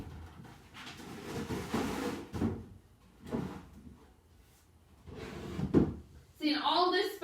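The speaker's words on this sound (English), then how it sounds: "I'm going to actually move these drawers over here, way down." Wooden drawers being moved in a she shed scrape and knock in several bursts, interleaved with a person speaking.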